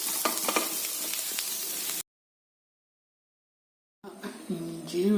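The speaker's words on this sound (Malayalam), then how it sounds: "കുറച്ചെണ്ണയിലാണ് വറുക്കുന്നത്. ഫ്ലവർ വറുത്ത് മതിയായി." Cauliflower fries in a small amount of oil with a close, crackling sizzle, broken by a stretch of total silence before the hiss returns with some background clatter.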